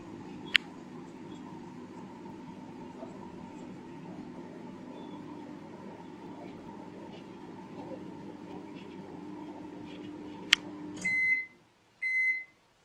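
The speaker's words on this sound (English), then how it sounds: "Now I'm going to melt this thing in microwave." A microwave oven melts lipstick: a steady low mechanical hum runs for about eleven seconds with two sharp clicks, then two short electronic beeps sound as it stops.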